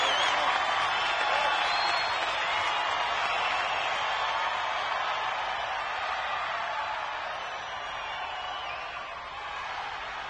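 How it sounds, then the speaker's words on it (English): A large audience applauds steadily for the Mid-City Underdogs as they take the stage, a dense wash of clapping that stays loud throughout and eases slightly toward the end. "let's give a big, warm round of applause for our challengers, the Mid-City Underdogs"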